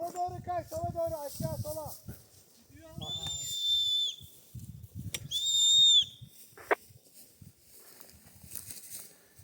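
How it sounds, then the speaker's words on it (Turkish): Two sharp, high-pitched whistle blasts, each lasting about a second, sounding amid outdoor chatter and calls between people on a hike to a mountain summit. "Düdük öttür düdük."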